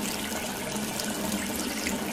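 Lots of water gushes out in a cartoon, a dense, continuous rushing stream like a tap running at full flow, steady and loud with no voices.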